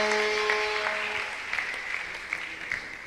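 A church congregation claps together in broadband, steady applause with a few brighter individual claps near the start, fading slightly toward the end over three seconds.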